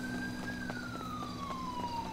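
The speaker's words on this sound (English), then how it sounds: "I heard a siren, so I ran back to it." A police car siren in Grand Theft Auto V wails at a moderate distance, one slow falling tone gliding downward over a low steady hum.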